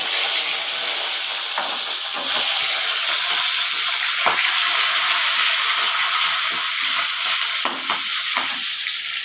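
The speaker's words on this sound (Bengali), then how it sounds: "এবার আমি ফোড়নটা দেব জিরে লঙ্কা তেজপাতা দিয়ে দিলাম" Cumin, chili and bay leaf tempering sizzle in oil left from frying fish heads, a continuous close hissing crackle with a few brief stirring knocks.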